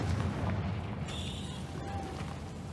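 A Confringo fire spell explodes in the Hogwarts Legacy video game with a loud, sustained rumbling blast, a bright whooshing burst rising over it midway through.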